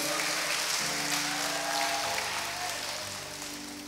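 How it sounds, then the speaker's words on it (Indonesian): Quiet, dense applause from a church congregation, steady and somewhat distant, with a sustained tone underneath, fading slightly toward the end. "Tepuk tangan buat Tuhan Yesus"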